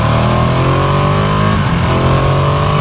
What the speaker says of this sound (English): you can definitely hear the road noise